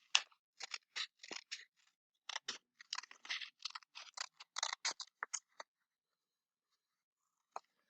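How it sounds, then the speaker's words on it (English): Scissors snip through paper while a butterfly shape is cut out for a popsicle-stick craft. Quick, close crisp cuts come in clustered bursts with short pauses, then stop, leaving near silence apart from one last faint snip. "Take our scissors. Cut it out."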